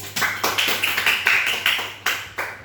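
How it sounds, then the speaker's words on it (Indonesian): Schoolchildren in a classroom clap together in a quick, even rhythm, about a dozen crisp close claps over a few seconds against a faint hum, with no talking. "Tepuk tangan untuk Quratul Ain."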